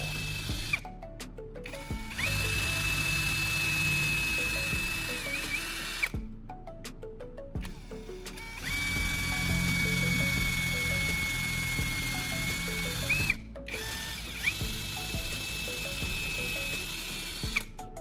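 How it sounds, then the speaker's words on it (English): A power drill whines in steady bursts boring two holes in wood, pausing between runs, with a high motor tone and grinding underneath; fairly quiet and close. "Next, I use a drill to make 2 holes at the marked positions."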